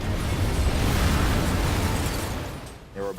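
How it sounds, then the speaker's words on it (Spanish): Destroyer HMS Campbelltown blowing up in a harbour town during the Second World War, a sustained heavy rumbling blast that roars for several seconds and then slowly fades. "Toda la ciudad se ve sacudida por la explosión."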